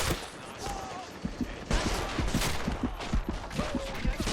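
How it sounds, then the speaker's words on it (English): Bursts of BAR automatic rifle fire in a World War II Poland defense battle in Men of War, rapid clustered shots crackling at mid distance amid other battlefield gunfire. "A BAR is firing from up there."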